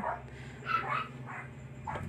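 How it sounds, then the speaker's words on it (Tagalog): Several household dogs bark and yip in short bursts a little distance from the microphone, with a few overlapping barks spread across a brief moment and low background noise underneath. "Dami kasing aso eh."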